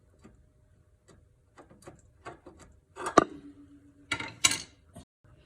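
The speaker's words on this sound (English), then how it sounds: "I'm underneath taking off the drive shaft bolts" A ratchet works on drive shaft bolts underneath a 2008 Land Rover Range Rover Supercharged, with scattered soft clicks giving way to a few louder metallic clanks and a brief steady hum midway, close by and with no talking.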